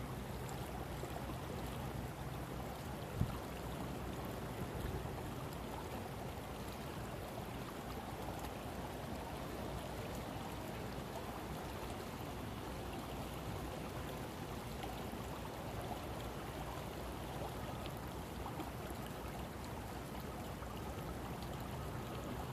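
Flowing stream water rushes in a steady, broadband wash, continuous and fairly close with no voices, one small knock early on.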